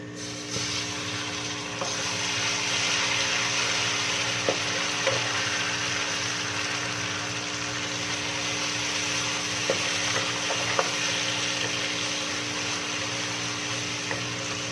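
Ginger garlic paste sizzles loudly in oil with browned onions in a pan, a steady dense frying hiss with occasional small pops throughout.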